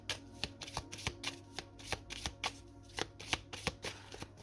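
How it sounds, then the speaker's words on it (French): Tarot cards shuffled by hand in a steady riffling rhythm of crisp slaps and flutters, about a dozen close strokes with no talk. "Je vais remettre une carte dessus"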